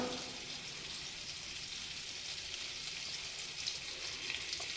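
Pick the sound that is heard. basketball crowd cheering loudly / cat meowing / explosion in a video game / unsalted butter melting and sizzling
unsalted butter melting and sizzling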